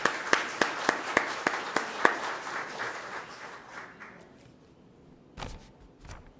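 A church congregation at a Catholic weekday Mass applauds a consecrated sister: a run of sharp, evenly spaced claps opens, then the sound thins and fades to quiet, with a couple of stray claps later.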